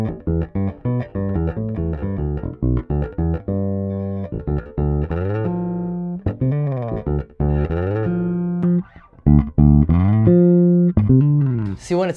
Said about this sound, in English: See, when it's out of phase, it just kind of sucks the life out of it. It sounds really thin and lifeless,